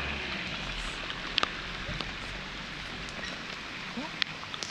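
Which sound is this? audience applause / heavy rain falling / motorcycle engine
heavy rain falling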